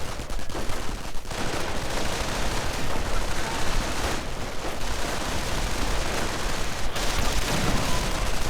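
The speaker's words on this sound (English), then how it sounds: "The MP40 fellows though still firing away madly." Sustained, dense automatic gunfire from MP40 submachine guns in a World War II real-time strategy game, with overlapping bursts and distant battle noise rolling continuously and loudly throughout.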